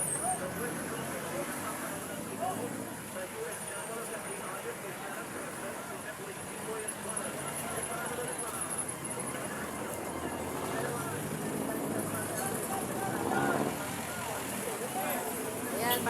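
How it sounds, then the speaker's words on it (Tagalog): Street traffic with vehicle engines rumbling and passing on a busy Manila roadway, a constant low roar with distant voices and street babble mixed in. "Yung mga tunog po ng mga sasakyan, makina po ng sasakyan."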